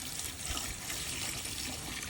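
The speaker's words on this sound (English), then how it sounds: "I'm just going to pour it in until everything's covered and leave it overnight" Liquid being poured over creek rocks (geodes and calcite) in a container outdoors to cover them: a steady, broad splashing trickle, continuous and close, with no speech.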